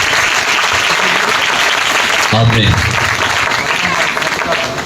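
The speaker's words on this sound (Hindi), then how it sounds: "खुल के तालियां बजाओ।" Loud, sustained applause from a crowd at an evangelistic church meeting, a thick continuous roar of clapping with a brief spoken word and cheering rising through it midway.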